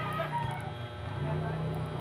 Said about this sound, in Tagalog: ang ingay ng mga manok, ayan, manok ng kapitbahay yan